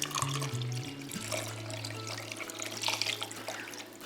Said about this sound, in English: we're gonna pour in the veggie stock.